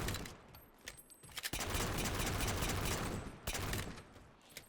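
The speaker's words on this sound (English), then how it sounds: "And I can shoot them from afar." Rapid bursts of automatic gunfire from Halo: Master Chief Collection played on a Steam Deck OLED, loud crackling volleys with short pauses between them, no voice over the shooting.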